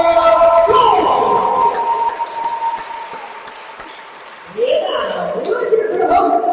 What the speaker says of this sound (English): Please give a big round of applause for the visiting team in black, Iowa Gold!